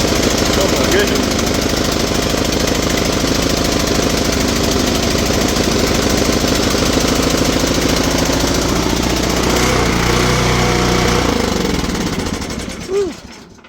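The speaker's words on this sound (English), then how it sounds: "as it started getting all that extra fuel out, you heard it idle up" A VR6 turbo engine on a snow-themed build runs close and loud at a high, steady idle with a rough, knocking drone, then winds down and cuts off near the end.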